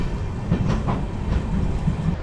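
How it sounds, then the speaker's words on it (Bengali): A Tinsukia–Jorhat passenger train rumbles at platform 1, loud and close, with rolling low-frequency noise and soft rhythmic wheel clatter running steadily throughout. "আর এটা হচ্ছে তিনসুকিয়া জোরহাট প্যাসেঞ্জার।"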